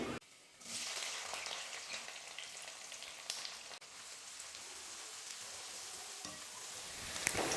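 Small onions and curry leaves sauté in oil for a brinjal curry, a soft continuous frying hiss like light rain, fairly quiet and steady after a brief start.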